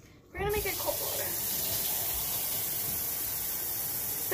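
Cold water runs from a tap into a dog's bowl, starting abruptly after a brief quiet moment and then pouring as a steady, close rushing hiss.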